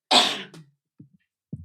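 A single sharp, explosive sneeze-like burst bursts out close up, followed by a few soft, short breaths or sniffs in quiet.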